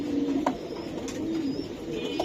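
A large military pigeon and other pet pigeons coo in soft, repeated low phrases, near and steady, with faint chirps in the background and no voices.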